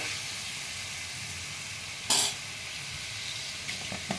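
Spice paste with salt added frying in a pan for a potato dum made without onion or garlic, a steady low sizzle with a short bright hiss burst midway and faint stirring scrapes near the end.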